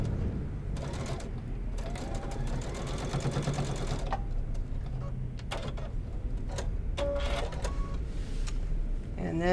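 A sewing machine stitches a boxy zipper bag in close, loud bursts of rapid mechanical whirring and needle clatter, stopping and restarting with short pauses between runs.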